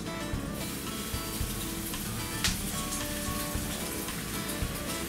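Eggs mixed with onions frying in a pan give a steady, close crackling sizzle with scattered pops, running on its own without talk.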